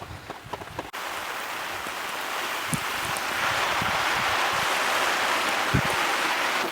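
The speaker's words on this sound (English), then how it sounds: "And the things that we do for YouTube, it is pouring with rain out here, and Glenn's dedicated." Heavy rain pours down outdoors during wheel and tyre cleaning, a dense, steady hiss of drops with scattered louder patters on nearby surfaces, constant and close after a brief quieter start.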